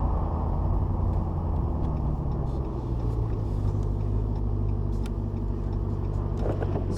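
A 2021 RAM 1500 TRX pickup truck driving slowly through town and turning, a steady low engine rumble and road drone heard from inside the cab, continuous and fairly loud with no talk over it.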